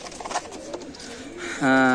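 Racer pigeons coo softly in a pigeon loft, a brief low cooing that ends in one louder, fuller coo, with people talking in the background.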